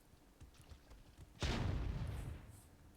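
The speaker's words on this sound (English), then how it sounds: "Everybody's blowing up here." Explosions in the strategy game Myth II Soulblighter, where a grenade blows up a group of units: a sudden loud boom followed by a rumbling, crackling decay lasting over a second.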